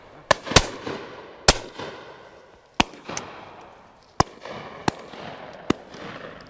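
Shotgun shots at a clay shoot on Long Mountain in Leighton: sharp, loud reports fired in pairs and singles, about eight blasts over several seconds, each ringing out with a short outdoor echo, with no talking.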